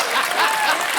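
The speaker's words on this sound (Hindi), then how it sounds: "साइना के लिए जोरदार तालियां।" Brief burst of audience applause on a TV comedy show, mixed with some chuckling, loud and close.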